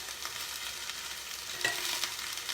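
Chopped cauliflower, potatoes and garlic cooking in a soup pot give a steady, even sizzle with light stirring clatter, close and continuous, with no voices.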